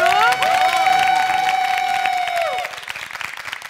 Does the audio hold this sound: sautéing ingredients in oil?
no